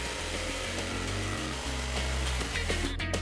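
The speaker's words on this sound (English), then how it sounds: "Start by drilling a hole, then just pop in your jigsaw and away you go." A jigsaw cutting wood runs continuously with a rapid, rattling reciprocating whine, loud and close, shifting pitch slightly as it cuts.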